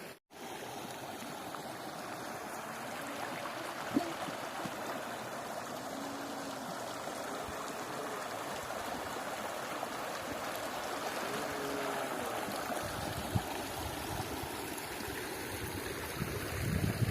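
A mountain stream in a Skardu valley rushes steadily and continuously over rocks, its broadband water noise close and full for the whole stretch, with no voices over it.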